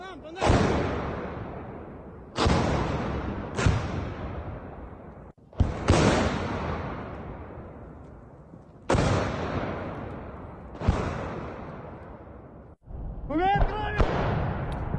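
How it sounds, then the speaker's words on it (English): Several heavy booms go off one after another at irregular intervals along a tree line in a Kharkiv war zone, each a sharp blast with a long rumbling decay, distant-sounding, with a whistling rise near the end. "We see explosions happening on the tree line."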